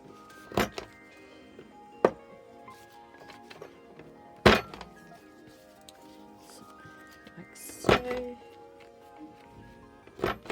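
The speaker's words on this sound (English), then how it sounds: "So we will get the punch, and we would just round off the edges." A paper corner punch rounding off card edges, making a few separate sharp thunks spaced seconds apart, over faint background music.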